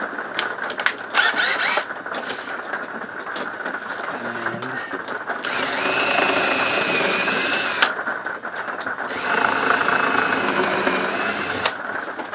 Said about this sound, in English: I'm going to drill a couple of pilot holes.